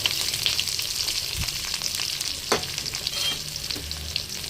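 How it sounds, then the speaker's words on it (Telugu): Onions sizzle in hot oil with crushed garlic and curry leaves for an okra tempering, a steady close frying hiss broken by a few louder stirring scrapes and clunks, with no talking. "ఇందులో ఇప్పుడు ఆనియన్స్ వేసేసుకుందాం."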